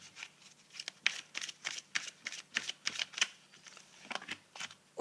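Shaman oracle cards are shuffled by hand in a steady run of crisp riffling flicks, close and moderately loud, repeating rapidly with short pauses and no speech.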